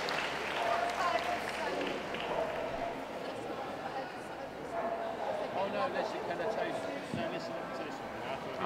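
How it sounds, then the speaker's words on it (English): Spectators at a city dog show's terrier judging applaud their judge with a steady, dense patter of clapping that runs throughout, mixed with crowd noise and nearby voices. "So a round of applause, please, for our judge, Roger Crooks"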